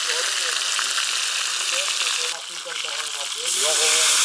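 Meat sizzling in hot oil in a kazan for Uzbek kazan kabob with potatoes, a steady dense frying crackle close up, growing louder near the end with faint talk underneath.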